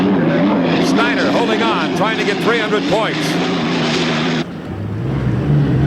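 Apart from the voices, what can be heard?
hydroplane race boat with Marine Turbine Lycoming engine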